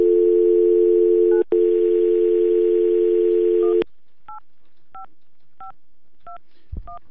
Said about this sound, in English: Can I star 67 my cell phone and do it on speaker, or should we just try?